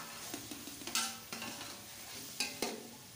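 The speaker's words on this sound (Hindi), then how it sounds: "फ्राई करेंगे चिकन" Chicken frying with tomatoes in a pot, a soft sizzle broken by scraping stirs and a few sharper clanks of the utensil, quiet and close.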